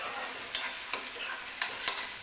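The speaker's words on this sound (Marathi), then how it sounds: "हे बघा टोमॅटो छान भाजलेला आहे" Tomato and ground masala roast in a hot pan, giving a steady sizzling hiss broken by four or five sharp scraping stirs of a spatula, close and alone with no talk.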